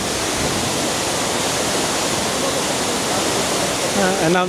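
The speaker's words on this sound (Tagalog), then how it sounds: "Mas na-appreciate natin bakit kailangan puntahan itong Kuangsi Waterfalls." Kuang Si waterfall in Laos roars as a steady, dense rush of falling water throughout, with a brief voice rising over it at the very end.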